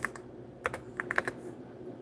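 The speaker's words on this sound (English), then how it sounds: "I'm typing names live." Keys tapped on a computer keyboard while names are typed live, a quick irregular burst of clicks followed by a short pause and then another cluster of strokes, close and fairly quiet.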